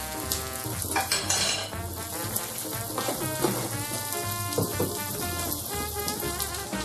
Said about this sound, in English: I'm going to put just a little bit of garlic butter, maybe just over a teaspoon